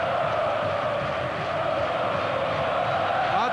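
Corinthians supporters fill a football stadium during the 2005 Brazilian league match against Internacional with a constant, loud roar of chanting and cheering that holds steady throughout.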